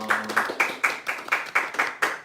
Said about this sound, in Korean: 우리 하나님께 영광의 박수 올려드리도록 하겠습니다